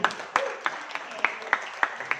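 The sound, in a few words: audience applause at presentation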